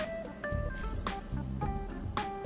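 Sriracha chili sauce squirts from a squeeze bottle into a beef jerky marinade: soft, wet squishing and dripping spurts in a few short bursts, faint and close.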